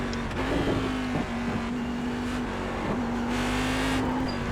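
Race car engine in the iRacing game at Watkins Glen International, a steady sustained drone that rises and dips with throttle and shifts, loud and continuous throughout with no talk.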